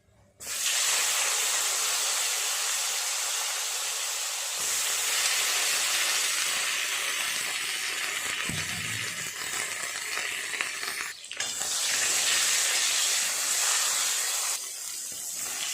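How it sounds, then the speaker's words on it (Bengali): Eggplant pieces frying in oil left over from frying fish, a loud continuous close sizzle with a brief cut and a few surges, no talking. "এই তেলেই বেগুনগুলো আগে ভালো করে ভেজে নেব।"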